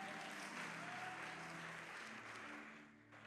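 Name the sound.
congregation applauding in church service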